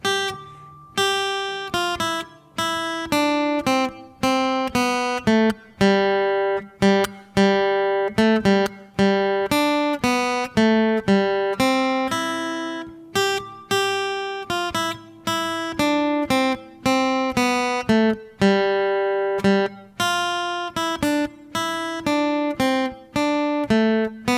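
The melody of "Away in a Manger" played note by note on plucked guitar strings in a lilting triple rhythm, clear and close, with no voices.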